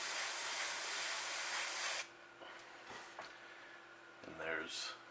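Paint spraying through a stencil onto fishing bait, a steady close hiss lasting about two seconds that then cuts off into quieter handling noises and a brief second burst.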